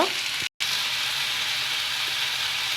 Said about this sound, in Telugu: ఉప్పు వేసుకుని మరొక రెండు నిమిషాలు వేపామనుకోండి తేమ మొత్తం వచ్చేస్తుంది